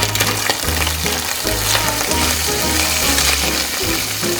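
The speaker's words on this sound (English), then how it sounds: "The sound of frying fat is very soothing." Fat sizzling in a pan while turmeric fish curry cooks, a steady, loud, crackling fry that runs continuously with light stirring and scraping of utensils underneath.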